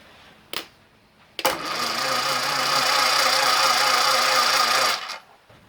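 A 1950s engine turns over on its starter motor for about three and a half seconds of steady, loud cranking with a regular chugging rhythm, after a brief earlier burst, without firing.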